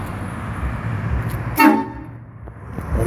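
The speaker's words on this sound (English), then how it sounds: "Oh, he got that train horn too" Horn on a bagged, candy blue 1992 Honda Accord, a single loud honk near the middle standing out over steady background noise outdoors at dusk.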